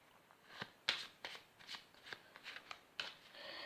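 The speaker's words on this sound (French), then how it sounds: "Donc on va mélanger." A deck of playing cards is shuffled by hand during a card magic trick, with close, crisp riffling and flicking in a quick series of soft, papery bursts.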